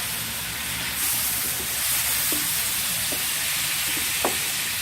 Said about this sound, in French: on met les calamars.